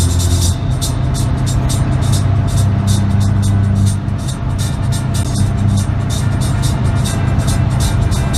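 A car cruises along a motorway near Southampton, giving steady loud road and engine noise with tyre roar and a rhythmic ticking on top, and no break in the sound.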